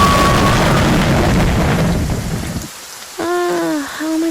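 Rain and thunder sound effect in an animated show, a loud, dense downpour with a low rumble that cuts off abruptly about halfway through, followed by a short tonal, sung-sounding voice.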